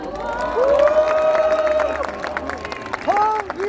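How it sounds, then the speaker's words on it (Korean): A crowd at an outdoor campaign rally near a train station claps and cheers, with bursts of clapping and a sustained whistle-like tone over the noise, followed by more shouts. "한 분 한 분 소개해드릴 때마다 힘찬 박수 부탁드리겠습니다."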